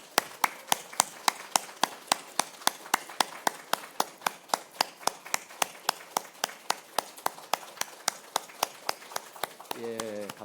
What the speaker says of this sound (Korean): 감사의 박수를 다 같이 한 20초는 칩시다.